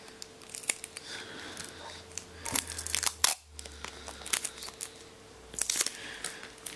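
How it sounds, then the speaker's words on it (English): Scissors snipping and tearing sellotape while replacing a BlackBerry keyboard backlight, a scattering of faint, close crisp clicks and crinkles with one sharper cut partway through, quiet overall. "I just got to cut off a bad piece of sellotape which stuck to the scissors"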